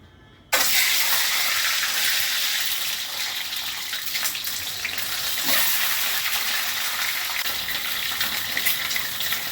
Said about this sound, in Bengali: প্রথমেই আমি ডিমগুলো ভেজে নিচ্ছি